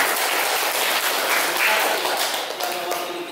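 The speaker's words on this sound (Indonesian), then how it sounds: "Kita tepuk tangan dulu." Classmates applaud together in a Catholic high school religion lesson: a dense, steady burst of many hands clapping close by, lasting a few seconds and fading slightly toward the end.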